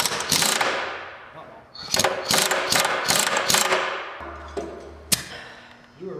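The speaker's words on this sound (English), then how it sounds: "we're just gonna loosen up the bolt" A ratchet loosening a bolt on a 1965 John Deere bulldozer, with repeated bursts of loud clicking up close, a few metallic knocks and a low engine-like hum partway through.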